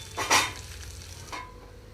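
Onions hit a pan for bottle gourd curd curry, a sudden bright sizzling burst followed by a second shorter crackle of stirring, close and brief, with a faint hiss between.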